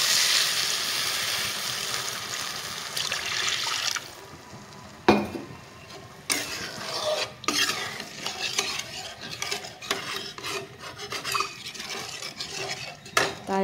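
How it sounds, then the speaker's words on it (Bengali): Water is poured into a hot pan of fried spice masala for an eggplant curry, a loud steady hiss and sizzle lasting about four seconds, then quieter bubbling with scattered clinks of a utensil against the pan. "তো এখন আমি দিয়ে দিব জল"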